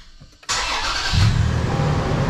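A Toyota 4Runner with a big V6 engine cranks briefly and catches, then settles into a loud, close idle with a deep rumble, heard alone.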